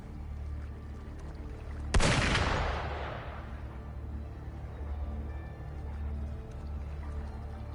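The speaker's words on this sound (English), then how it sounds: "Gunfire!" A single sharp gunshot blast rings out in the video game Wuthering Waves, followed by a long decaying echo over a steady low ambient rumble.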